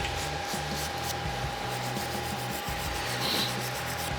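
A Miller Multimatic 220 welder set for DC at 200 amps and controlled by a wireless foot pedal lays tack welds, giving a continuous crackling hiss over a faint steady hum with uneven low pulsing.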